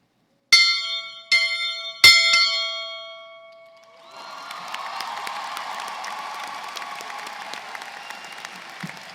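Three loud, ringing bell strikes at a graduation ceremony, evenly spaced and left to decay, followed by a broad swell of crowd applause that continues to the end.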